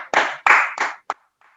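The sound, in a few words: audience clapping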